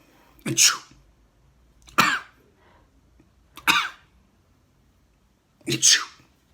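Four short, sharp sneeze- or cough-like bursts spaced a second or two apart, voiced by a bird imitating the sound, with quiet gaps between.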